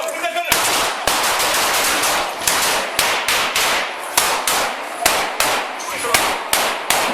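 Gunfire in a police shooting in Brooklyn: rapid, loud, sharp shots in a steady irregular series, each crack ringing briefly, with no talk.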